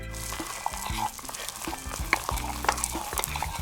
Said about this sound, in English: Little whisk.